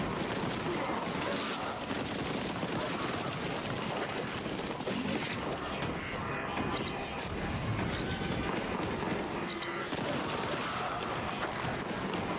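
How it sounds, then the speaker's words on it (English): Enemy gunfire in the retro shooter Warhammer 40K Boltgun, dense continuous volleys of shots and mechanical clatter filling the scene, loud and unbroken, with a voice talking over it. "Somebody shooting at me from over there."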